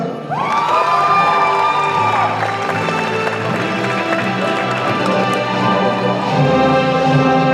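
A graduation convocation crowd cheers and whoops loudly with clapping mixed in, sustained and energetic, with a few high shouts rising above.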